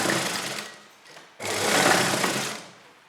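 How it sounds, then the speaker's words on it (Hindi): A sewing machine stitches a straight seam on Afghani salwar fabric, running in two close, steady bursts separated by a brief pause, loud and alone with no talk. "तो थोड़ा सा हम आधा इंच तक लगभग सीधा सिलाई लगाएंगे"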